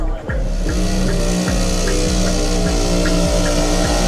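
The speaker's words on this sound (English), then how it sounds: "And we're doing our burnout." A race car does a burnout at a drag strip, its engine roaring loud and close with a sustained tire squeal layered over the revving, continuous for a few seconds.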